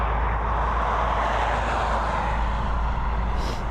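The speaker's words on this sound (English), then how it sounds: "We're heading over to Brussels with Aer Lingus EI638, this Airbus A320." An Aer Lingus Airbus A320 jet departs Dublin Airport with a steady, loud, broad engine roar and a low rumble that hold at a constant level without talk.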